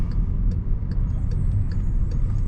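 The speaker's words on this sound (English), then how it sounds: "Oh, that's a big ass truck." A big truck passes on the road, heard from inside a car as a steady low rumble of road and engine noise, fairly close and without talk.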